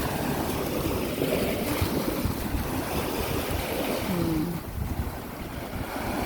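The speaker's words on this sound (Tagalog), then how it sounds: "Ang ganda talaga pakinggan ng alon, guys." Ocean waves wash in at Medina seaside as a steady, moderately quiet rush of surf mixed with wind buffeting the microphone, continuous throughout with no talking.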